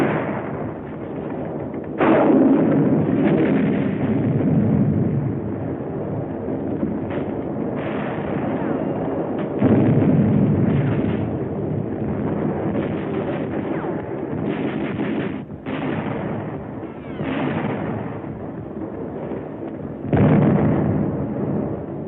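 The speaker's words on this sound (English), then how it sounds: "Carried rocket gun. Firing it takes close teamwork." A hand-carried rocket gun firing in 1944 war footage from New Britain, a series of heavy booming blasts over a constant dull roar, with the muffled, narrow-band sound of an old film soundtrack.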